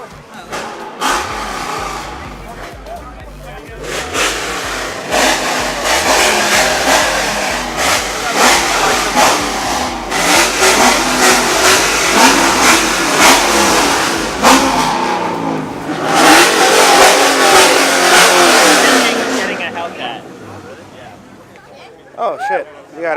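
Ferrari sports car engines rev and roar at a car meet, loud swelling bursts that rise and fall in long waves, with crowd chatter and voices mixed in around them.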